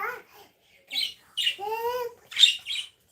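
Fledgling birds give short chirps, squawks and a drawn-out whistled call in a few separate bursts, close by, with quiet gaps between.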